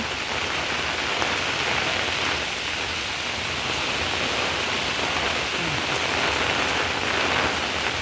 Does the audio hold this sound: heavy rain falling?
yes